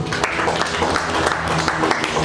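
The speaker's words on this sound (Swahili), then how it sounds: "Tumpigie Israeli makofi." A church conference congregation breaks into dense, loud applause, a continuous wash of many hands clapping close by for a couple of seconds.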